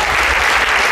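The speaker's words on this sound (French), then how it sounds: "On l'applaudit bien fort" An audience at a hypnosis stage show claps loudly and densely, a close burst of applause filling the whole moment.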